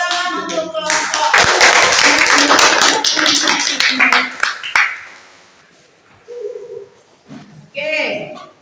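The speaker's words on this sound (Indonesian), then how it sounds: "beri tepuk tangan untuk kelompok" A classroom gives a round of applause for a group, a few seconds of lively clapping that thins out and stops, followed by a teacher's voice talking.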